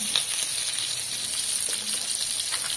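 Fish fries in hot oil in a home kitchen with onion and garlic, giving a steady bright sizzle and crackle throughout at moderate volume, with no talking.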